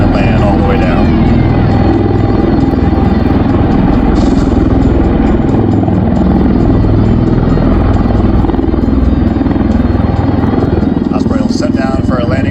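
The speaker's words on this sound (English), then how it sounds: "Osprey will set down for a landing now" A USMC MV-22B Osprey tiltrotor hovers and lands at an airshow at MCAS Yuma, producing a loud, steady, throbbing rotor and engine roar that fills the whole span, close by.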